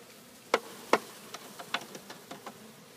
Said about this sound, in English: Let's shake the bees off.